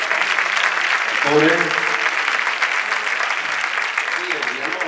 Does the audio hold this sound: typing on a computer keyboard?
no